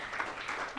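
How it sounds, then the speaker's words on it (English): A brief burst of clapping from an audience at the opening session of a Space Apps Challenge hackathon. It makes a short, dense, moderately loud patter of hands. "So big round of applause for all of you."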